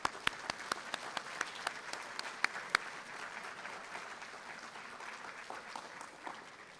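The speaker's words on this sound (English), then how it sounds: "let's take a moment to applaud them" Applause at a medical school white coat ceremony honouring families: a few sharp, separate claps ring out first, then settle into softer, scattered clapping across the hall that slowly thins out.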